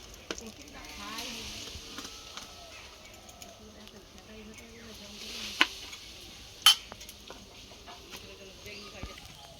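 Battered eggplant fritters (begunis) fry in hot oil, a soft continuous sizzle with occasional utensil clinks and a couple of sharp knocks, while someone talks over it.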